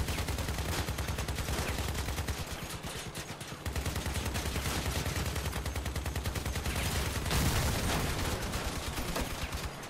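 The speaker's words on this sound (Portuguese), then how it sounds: "É tiro que não acaba mais." Rapid automatic gunfire rattles without pause during vehicle combat in the game Crossout, dense bursts packed close together and loud, with a brief dip partway through before the shooting continues.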